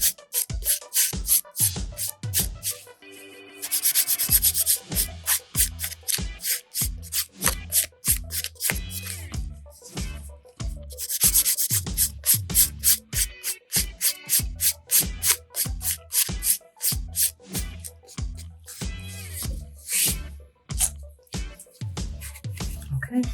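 A nail file rasps across natural nails during a basic manicure, a fast, even rhythm of short scraping strokes, close and clear, with a couple of brief pauses and no talking.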